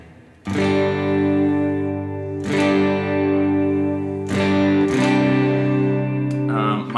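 Clean electric guitar chords ring out through effects, each strum sustaining and swelling with lush reverb, four struck chords over seven seconds, no talking.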